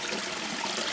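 Water flows in a steady, full rush that stays constant and close throughout, with no voices over it.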